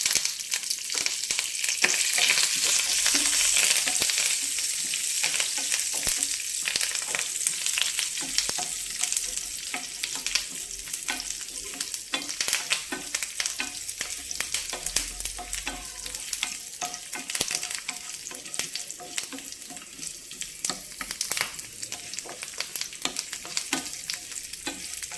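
Urad dal, cumin, four dried red chillies, garlic cloves and curry leaves fry in a pan for a chutney tempering, giving a steady crackling sizzle with frequent stirring scrapes that slowly soften.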